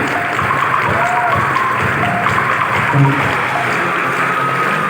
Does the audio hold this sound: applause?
yes